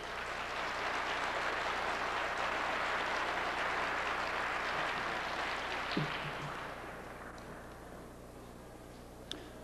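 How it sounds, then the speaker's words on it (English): Lecture audience applauding a speaker, a broad wash of steady clapping from a crowd that thins and fades toward the end, with a couple of isolated knocks. "Let's give a round of applause,"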